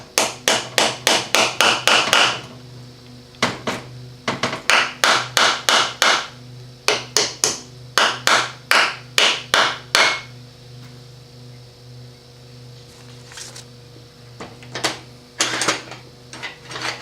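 A 5/16 bolt being hammered into the oil hole of a Chrysler 727 transmission: bursts of rapid, sharp metallic hammer strikes in quick runs, loud and close, pausing between groups, with a faint steady hum behind.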